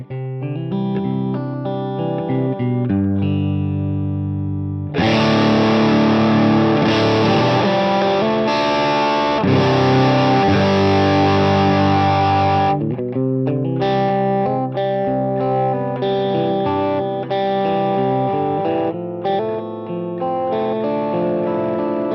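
Electric guitar played through a Fat Foot Effects Thallium 81 distortion pedal in split-coil mode: lightly picked, clear chords at first, then loud, saturated strummed distortion from about five seconds on, with no talking.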